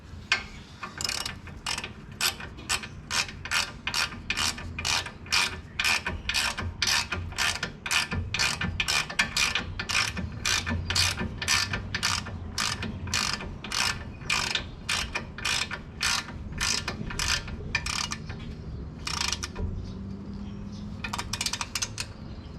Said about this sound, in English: Take your ratchet.